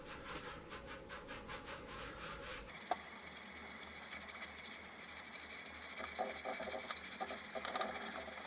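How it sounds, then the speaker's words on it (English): Paint wash is rubbed off the raised areas of a painted cosplay Doctor Doom bracer to expose the metallic layer beneath, giving a faint continuous scrubbing rub that steadies after a brief knock partway through. "it's going to rub off a lot of this wash on the raised areas"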